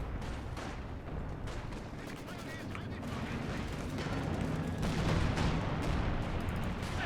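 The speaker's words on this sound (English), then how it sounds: "Brumbar's opening fire." A Brummbär assault tank fires in the Company of Heroes 2 Lanzerath Ambush map, its heavy cannon booms landing amid a dense, continuous din of artillery and gunfire, loud and close with a rumbling low end throughout.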